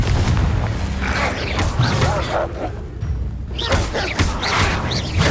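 Confringo, a blasting spell in Hogwarts Legacy, goes off in loud, dense booming explosions and whooshes that fill the clip, with a brief dip in the middle before the blasts return.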